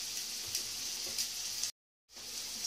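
Onions sizzle gently in a pan while being stirred, a soft steady frying hiss that cuts out for a moment and then resumes.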